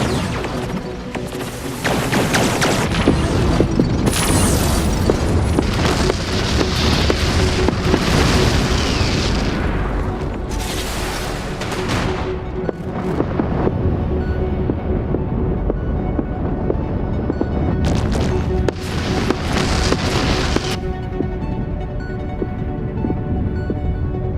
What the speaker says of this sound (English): Here come their bombs.